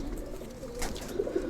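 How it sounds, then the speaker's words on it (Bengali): Afsan pigeons give low, throaty coos, close by and moderately loud, rising toward the end of the brief stretch over a steady background hum. "বেস্ট কোয়ালিটি আফসান কবুতর মাশাআল্লাহ"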